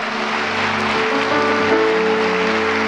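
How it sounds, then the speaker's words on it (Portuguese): A church congregation applauds loudly and steadily during a service, a dense wash of many hands clapping with sustained tones, likely music or voices, running underneath throughout. "Só quem pode dar um aplauso bem forte a ele"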